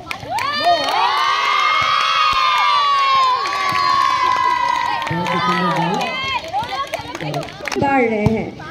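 Children shouting and cheering at a school sports meet in Jharkhand, a loud, dense crowd of young voices with rising shrieks sustained throughout, thinning into scattered shouts and chatter near the end.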